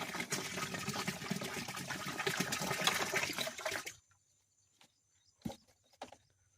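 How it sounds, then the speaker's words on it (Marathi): Cow urine, 15 litres of it, is poured into an organic fertilizer mix, giving a steady close liquid splashing and gushing that stops after about four seconds, followed by near silence and a few faint knocks. "त्यानंतर ही मुतारी टाकत आहेत."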